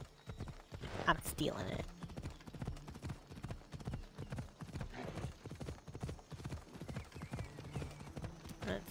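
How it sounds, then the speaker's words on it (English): Horse hooves clip-clop steadily in Assassin's Creed Odyssey, a close, rhythmic run of game hoofbeats lasting throughout, with someone talking over them. "Whoa, look at that horse."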